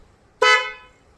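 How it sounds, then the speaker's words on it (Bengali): An aftermarket four-wheeler car horn fitted on a motorbike gives one loud, bright honk lasting about half a second, with a sharp onset and a quickly fading tail against quiet surroundings. "ইনস্টলের পরে যেই হর্নটা লাগানো হয়েছে সেটার আওয়াজ"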